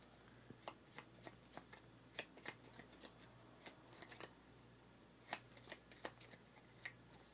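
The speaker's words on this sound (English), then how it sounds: "So we're going to shuffle all those up." A deck of cards is shuffled for a solo board game session, a run of quick papery riffles and soft snaps in irregular bursts, close and quiet with no speech.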